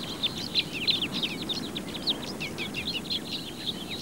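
Dense chorus of high, rapid chips and twitters from a flock of crossbills and siskins feeding in spruce, many overlapping calls in quick succession, moderately close over a soft background hiss.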